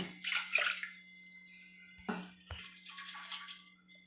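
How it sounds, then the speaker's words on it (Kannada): Water added to a simmering pot of kara pongal, heard as a soft splash and pour followed by a few thuds and quieter trickling under a steady low hum, with no voices. "ನಾನು ನೀರು ಸೇರಿಸ್ಕೊಳ್ತೀನಿ"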